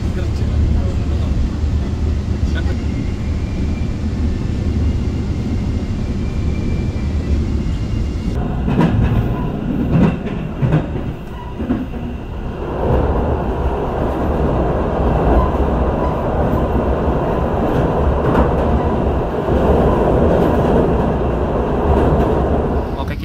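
The KA Logawa economy train runs on rails with a loud, steady rumble and rolling clatter of wheels, and a passing train on the line adds a sharper roar midway. Voices talk now and then over it.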